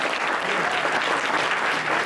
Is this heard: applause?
yes